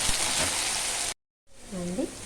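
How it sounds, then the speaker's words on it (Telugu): Curry leaves frying in oil with green chillies and onion, a dense close sizzle that cuts out briefly and then resumes, with a voice sounding faintly over the hiss. "మన చెట్టు కరివేపాకు, మన సొంతం కరివేపాకు వేసుకొని దూరగా వేయించుకోవాలండి."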